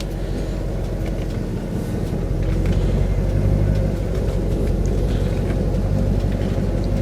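Lexus SC400 engine idling up close, a loud continuous low rumble that thickens slightly partway through and holds steady to the end.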